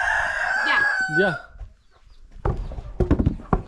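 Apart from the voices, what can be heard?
rooster crowing on a farm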